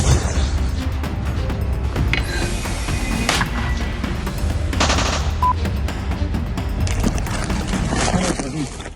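Dense, continuous combat noise from artillery firing on the Vovchansk front in Ukraine, with repeated heavy blasts and rattling gunfire, loud and close, with scattered voices underneath.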